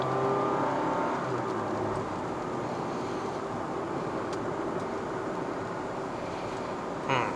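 A Honda City RS (GN3) slows under engine braking with the throttle released on a mountain drive up to Genting, Malaysia. A steady, moderate engine and road drone is heard from inside the cabin, with a small bump near the end.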